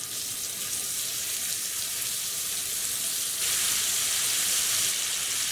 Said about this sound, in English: all we're going to do is add our cutlets straight in.